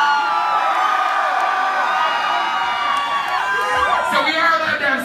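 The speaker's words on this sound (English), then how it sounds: "Yeah, cheer a little more" A concert crowd at a metal show in Hawaii cheers and whoops steadily, a dense roar of many voices filling a large space, with a singer's voice over the noise.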